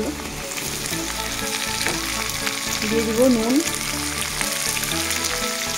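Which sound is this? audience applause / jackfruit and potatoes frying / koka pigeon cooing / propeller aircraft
jackfruit and potatoes frying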